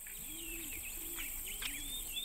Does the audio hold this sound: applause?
no